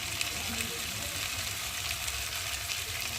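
Chili powder, turmeric and salt fry in hot oil in a pan, making a dense, continuous sizzle that stays close and even throughout, with no talking.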